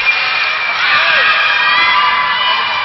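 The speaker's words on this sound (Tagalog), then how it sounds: "At buhay ngayon ang crowd ng FEU." FEU supporters cheer loudly in a crowd at a volleyball match against Army, a dense, continuous roar with shouts and whoops, steady throughout.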